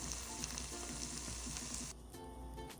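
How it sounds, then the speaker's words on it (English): Water boils steadily in a pot on the stove, a soft continuous hiss and bubbling at low volume that drops away near the end. "The water is boiling"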